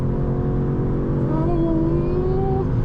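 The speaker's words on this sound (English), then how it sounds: "We're always going to be very constant at a high RPM, and then it just goes." The engine of a 2024 Audi S3 holds steady at high RPM while accelerating, a loud, continuous droning hum with a rising tonal whine, heard from inside the car.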